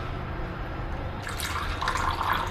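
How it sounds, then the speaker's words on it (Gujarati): Water pressed out of homemade butter is drained off in a kitchen. A low background murmur turns into a brighter splashing, trickling pour partway through, which grows slightly louder toward the end. "જે પાણી નીકળેલું છે એ કાઢી લેશું પાછું."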